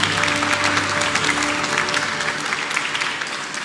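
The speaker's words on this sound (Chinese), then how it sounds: "大家是不是也给他们掌声好不好" A crowd claps warmly for the coaches, doctors, trainers and support staff of Taiwan's Tokyo 2020 Paralympic delegation at a presidential reception, a dense sustained ovation that tapers slightly toward the end.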